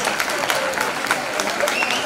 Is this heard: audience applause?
yes